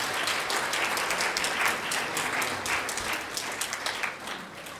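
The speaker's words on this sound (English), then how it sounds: "Let's give her a round of applause again." An audience at a hula competition applauds steadily for a dancer, a full, sustained wash of clapping from many hands that carries through without a break.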